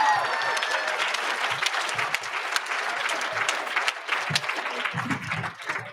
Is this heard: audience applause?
yes